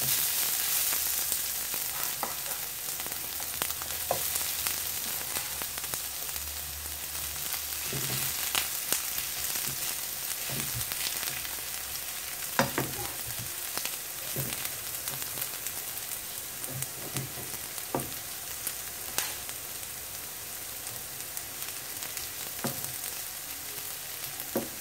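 Half of a Spanish tortilla egg mixture fries in a hot pan, giving a steady, close sizzle with scattered pops and crackles and no talking.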